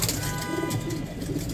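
Racing pigeons coo inside a breeding loft, soft low throaty calls overlapping in a close, continuous murmur.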